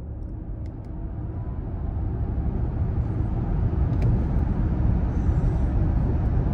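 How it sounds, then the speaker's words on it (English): An Audi Q8 e-tron electric SUV with 408 brake horsepower accelerates hard, heard from inside as a steadily building low rumble of road and wind noise with no engine note and no talking. "So let's try some acceleration of the 408 brake horsepower."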